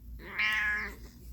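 A pet cat gives a single drawn-out meow, close and fairly loud against a quiet room.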